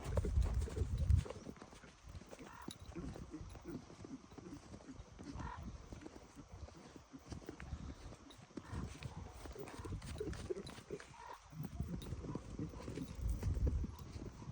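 Hooves of a young colt stallion, up for sale in the village of Volosiv, clip-clop steadily and close by for a long stretch, swelling near the start and again at the end, with occasional voices talking in the background.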